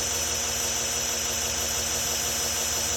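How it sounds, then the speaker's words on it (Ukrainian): A machine with quality bearings runs smoothly and quietly, giving a steady, even mechanical hum with no knocking or beating, heard alone throughout. "дуже тихо, якісні підшипники."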